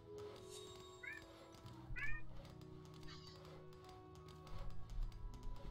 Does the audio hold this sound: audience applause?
no